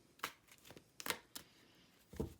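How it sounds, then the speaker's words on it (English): A stiff oracle card deck whose cards clump together is shuffled quietly at close range, making a few separate soft riffling bursts with near-silence between them. "This deck does clump together. It's a bit hard to shuffle, I will say."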